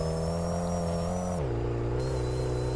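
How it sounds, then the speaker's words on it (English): A car engine in the racing game Street Legal Racing Redline drones steadily with a high, thin supercharger whine on top that drops in pitch as the engine note shifts lower partway through. "you can hear the supercharger"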